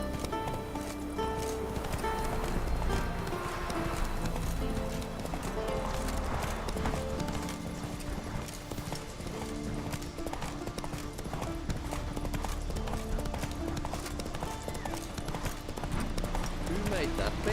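Roach, the horse in The Witcher 3, gallops with a continuous dense rhythm of hoofbeats under game music, with voices talking over it.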